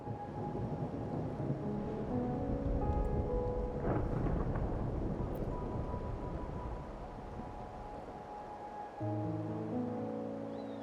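Steady rain pours through a rainy night scene in the Wuthering Waves video game, with low rolling thunder rumbling underneath and a brief swell near the end, a dense continuous wash with no voices.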